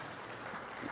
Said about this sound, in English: let's get you your just applause there